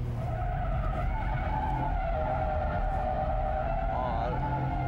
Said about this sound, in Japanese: ドリフトチェック。